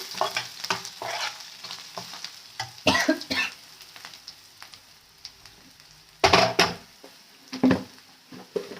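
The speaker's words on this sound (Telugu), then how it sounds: "అదిగో ఆనియన్స్ ఒక సైడ్ వేపా పల్లీలను మాత్రం ఒక సైడ్ వేపానండి" Onions and peanuts fry in a pan, a soft continuous sizzle punctuated by irregular bursts of scraping and stirring with a utensil, close by, with a few louder clattering strokes.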